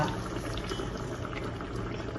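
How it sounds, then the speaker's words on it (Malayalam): Coconut oil poured into a pot of green mackerel fish curry, giving a steady liquid sizzle and trickle, close and fairly loud, without speech. "വെളിച്ചെണ്ണ നല്ലോണം ഒഴിക്കുക"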